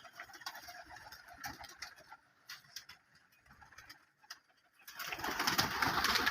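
Pigeons at a rooftop pigeon loft coo and flutter with scattered clicks and taps, then a louder burst of wingbeats and rustling near the end.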